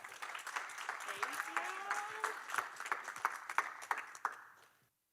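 Audience applause welcomes Maggie Hott to the stage at a go-to-market talk, steady clapping with voices chattering over it, fading out near the end.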